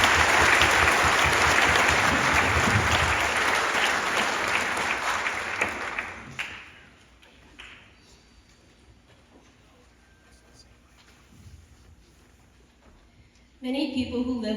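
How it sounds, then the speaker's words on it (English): An audience at a high school spring band concert applauds loudly and steadily, the clapping fading out after about six seconds into quiet room noise before a brief burst of talking at the end. "So once again, give our seniors a round of applause."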